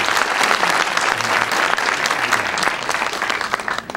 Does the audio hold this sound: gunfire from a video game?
no